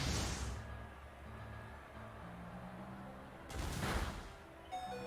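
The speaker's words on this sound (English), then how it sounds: "And Turtonator goes with an Explosion." A Turtonator's Explosion attack in a Pokémon video game battle, heard as a faint rushing blast at the start and a louder broadband burst a few seconds later, with a low game hum between.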